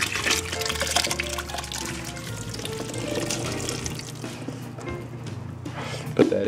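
Liquid for ham and bean soup pours steadily into a pot, a continuous close splashing rush with a small clunk near the end.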